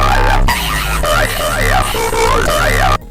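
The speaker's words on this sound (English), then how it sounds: "imagine it's your first time listening to underground music and then what you hear is this" An underground rage rap track plays loudly with a booming bass and a wobbling, warbling synth lead. Its rhythm is choppy, and the track cuts out abruptly near the end.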